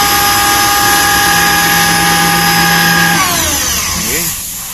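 A FIAC rotary screw compressor runs with a loud, tonal mechanical whine and roar, then shuts off, its pitch sliding downward as air and oil rush out under pressure before the noise fades.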